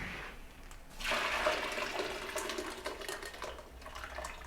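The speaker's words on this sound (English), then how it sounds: "Put them through a sieve, get rid of the water." Boiled potato water for homemade french fries poured out through a sieve, a rushing splash that swells and then trickles steadily as the water drains away.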